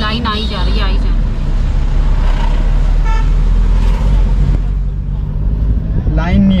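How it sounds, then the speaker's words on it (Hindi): Cars and other vehicles pass in a line along a mountain road, engines rumbling close by with a couple of horn toots, while someone talks loudly over the traffic. "ये देखो बस गाड़ियों की लाइन आई जा रही है आई जा रही"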